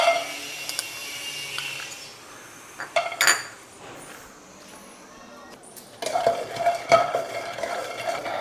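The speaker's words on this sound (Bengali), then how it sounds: "দেখো আমার বাদামটা ভাজা হয়ে গেছে, ফেটে ফেটে গেছে।" Peanuts frying in a pan are stirred with a metal utensil, with clattering scrapes and knocks against the cookware and a faint sizzle underneath, louder bursts of stirring coming in spurts.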